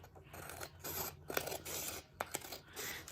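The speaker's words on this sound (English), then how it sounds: "So I am going to use my scissors for that. So I'm cutting right along the edge." Scissors cutting paper along the edge of a sheet, giving close, crisp snipping and rasping strokes in short bursts, with no talking.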